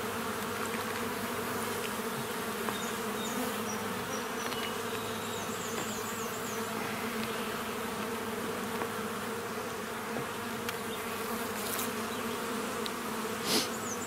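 Honeybees buzzing around an open beehive during an inspection, a steady droning hum of many insects close by, continuous for the whole stretch with no talk.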